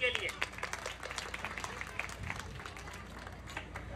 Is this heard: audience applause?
yes